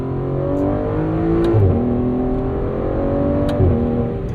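A 2024 Aston Martin DB12's twin-turbo V8 drones steadily from inside the cabin on a road drive, holding a smooth, even note with a couple of brief rises as it pulls along, and no one speaks.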